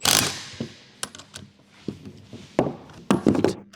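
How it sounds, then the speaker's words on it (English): Electric impact wrench with a 22mm deep socket loosening the rear bushing nut on a 2007-2013 Acura MDX lower control arm: a loud opening burst, then scattered sharp clicks and rattling impacts, ending in a cluster of hits. "Use a 22mm deep socket with an electric impact wrench to loosen the nut."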